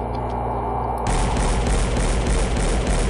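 Gunfire in the shooter game SiN as the player switches to a pistol: a dense, loud burst of shots fills the clip from about one second on, with no talking.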